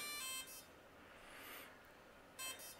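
A Blade 230S helicopter that is not bound to its transmitter gives two faint, high electronic beeps, one near the start and one near the end, separated by about two seconds of quiet hum.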